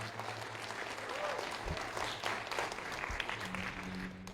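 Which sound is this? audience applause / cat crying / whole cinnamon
audience applause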